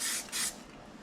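Two quick, close hissing bursts come from a spray gun applying a tack coat during rust repair on a Chevy C10/20 rocker panel, followed by a quieter tail.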